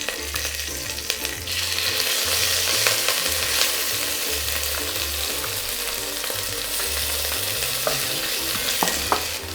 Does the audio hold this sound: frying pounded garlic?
yes